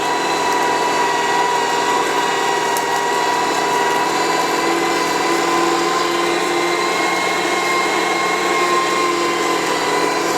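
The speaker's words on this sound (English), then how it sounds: "why don't we grind up this meat and I'll get back to you here" An electric meat grinder fitted with a fine plate drones loudly and evenly for the whole stretch as it grinds meat for Swedish potato sausage, a steady motor whine with no voices over it.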